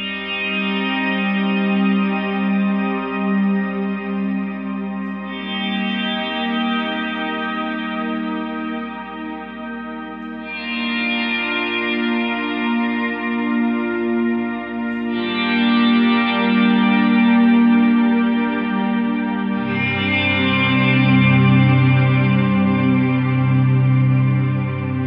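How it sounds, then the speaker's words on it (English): Source Audio One Series guitar pedal running its shimmer engine: sustained chords bloom into a dense, washing reverb with high octave harmonics layered above, changing every few seconds, steady and fairly loud with no talking. "Now let's quickly check out the shimmer engine."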